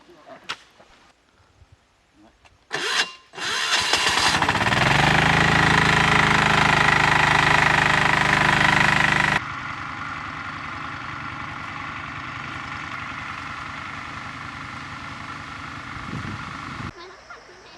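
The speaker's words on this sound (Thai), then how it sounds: "เริ่มสูบน้ำเลย" After a few clunks, an engine-driven water pump roars to life while draining a long-abandoned pond. It runs loud and steady, then drops to a lower, quieter drone before cutting off.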